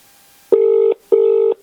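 Two identical electronic telephone tones sound in a row during a call, each about half a second long, loud and clean with short gaps between.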